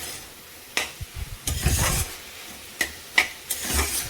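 Vegetables cooking in a kadai being stirred, with irregular scraping and knocking strokes of a spoon against the pan over a faint sizzle, close and without talk.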